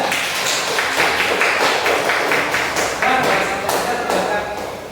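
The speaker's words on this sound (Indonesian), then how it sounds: "kita berikan tepuk tangan untuk kelompok tiga" Students in a classroom clap for a discussion group, a short burst of hand claps that fades as the teacher's voice continues over it.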